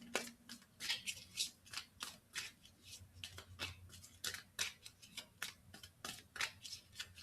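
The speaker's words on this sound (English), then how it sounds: "I'm gonna give it a few more shuffles" Quiet, rapid papery flicks and soft slaps repeat irregularly as a deck of tarot cards is shuffled close by, with no talking.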